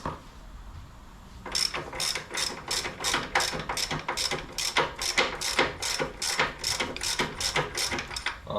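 A socket wrench ratchets close up while brake parts come off a Harley Dyna motorcycle, with about a dozen sharp clicking strokes in a quick, regular rhythm after a short quiet start.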